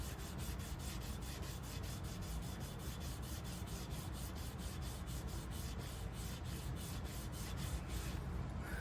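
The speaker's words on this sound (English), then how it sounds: "Here I'm doing some flat wet sanding." Continuous rhythmic scraping of flat wet sanding on a wooden guitar neck, close and steady, with regular back-and-forth strokes throughout.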